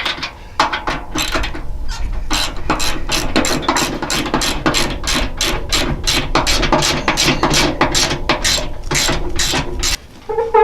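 Ratchet tightening bolts on a plow fitted to a 1980 Jeep Cherokee Chief, a rapid, loud run of close metallic clicks repeating for about ten seconds.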